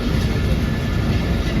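Passenger train pulling into a station in Pakistan, a steady loud rumble of wheels and carriage noise with faint rail clatter, close and continuous throughout.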